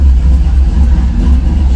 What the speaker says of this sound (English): Letting the truck warm up.